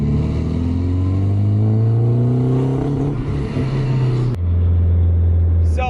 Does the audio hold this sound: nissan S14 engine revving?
yes